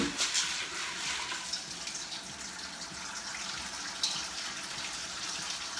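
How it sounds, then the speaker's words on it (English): Water runs steadily over black-eyed peas in a pot as they are rinsed, a continuous close splashing flow with small sloshes, no talking. "We're gonna give the black eyed peas a good rinse."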